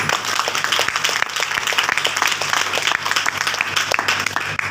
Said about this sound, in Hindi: अपने लिए एक बार जोरदार तालियां बजाएं।